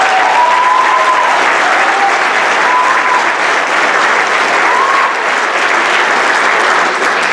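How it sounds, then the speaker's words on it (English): Sustained clapping from a crowd in a large room at a National Junior Honor Society induction ceremony, even and continuous throughout, with a few faint whistles or cheers over it. "How about one more round of applause for your students?"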